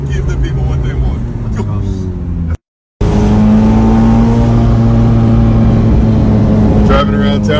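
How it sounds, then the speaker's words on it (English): A McLaren 720 Aperta sports car drives around town, its engine droning loud and close with steady revving and a brief cut in the middle, and someone talking over it. "Driving around town in the Aperta in the 720 1-of-1 GTR."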